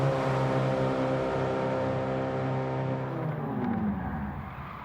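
A race car with a racing exhaust in Gran Turismo 7 at Suzuka or Tsukuba drones loudly with a steady, buzzing exhaust note that shifts pitch near the end as it revs and fades slightly.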